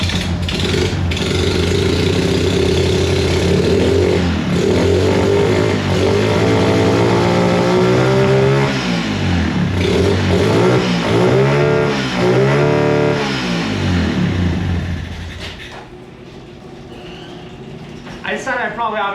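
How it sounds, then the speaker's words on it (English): An old flathead engine fires and runs in an enclosed garage, loud and rough with uneven revving and shifting pitch, then drops to a quieter idle near the end, with a voice speaking over it. "Not the best idea to start an engine in an enclosed space."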